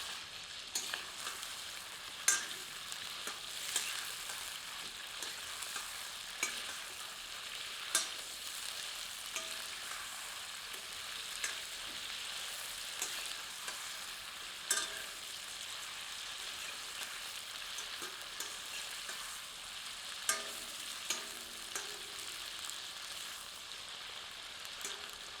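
Mutton pieces frying in mustard oil in a pan (kadhai), a steady broad sizzle with occasional scraping stir clicks, continuous and close throughout.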